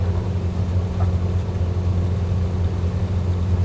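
The propeller of an Ilyushin IL-103 in Flight Simulator 2020 hums and drones steadily with a low engine rumble, holding an even, continuous tone throughout.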